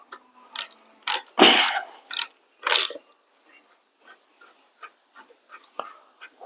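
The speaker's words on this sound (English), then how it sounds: "And we'll take these brake calipers loose." A wrench ratchet clicks in quick close bursts while loosening the rear brake caliper bolts on a Honda GL1200 motorcycle, then lighter scattered ticks follow.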